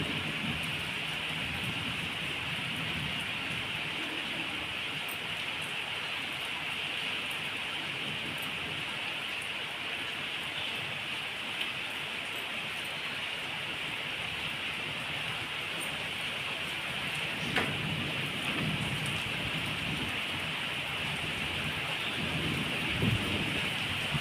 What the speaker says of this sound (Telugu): వాన ఫుల్గా కొడుతుంది చూడండి